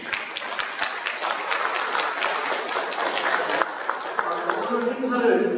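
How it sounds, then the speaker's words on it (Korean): A crowd at a peace-unification college event claps loudly and continuously, a dense steady wash of applause close by that swells slightly near the end, with a voice faintly heard underneath. "큰 박수 부탁드립니다."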